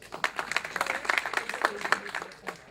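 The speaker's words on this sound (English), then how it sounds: "Let's give them a hand of applause" A modest audience at a 2015 Igbo Day symposium claps for the speakers, with fairly quiet, loosely spaced hand claps standing out individually rather than blending into a roar.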